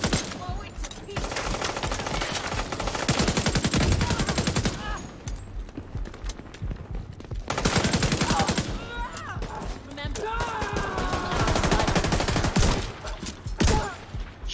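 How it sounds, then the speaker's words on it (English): Rapid, dense bursts of gunfire in the shooter game The Division 2, including shotgun fire, sounding loud and close in long sustained volleys with short pauses, with voices talking over parts of the action. "Shotgun is just delightful."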